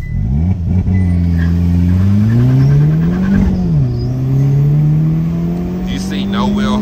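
A Hyundai N car accelerates hard in a quick launch with overboost, its engine note rising through rising harmonics, dipping briefly at a shift and climbing again, loud and close throughout.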